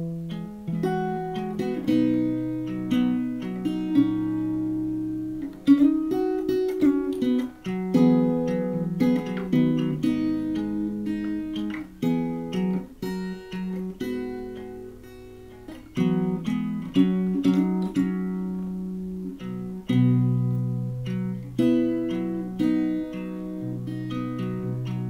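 Fingerstyle acoustic guitar plays a lick woven into a melody, plucked notes and bass lines moving in a steady relaxed rhythm with brief pauses, close and alone with no talking.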